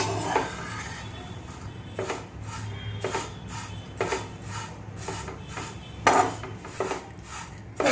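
Poha (flattened rice) being dry-roasted in a pan, rhythmic scrapes and clinks of a spatula stirring against the metal, with a dry rustle of flakes beneath, close and steady.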